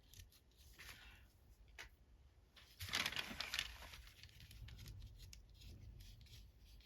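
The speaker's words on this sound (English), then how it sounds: "Some of the book pages stay in. Some of it's ripping off completely." Book pages being ripped off grungy layered background paper: close, crackly tearing and rustling paper, with a louder rip in the middle over faint handling noise.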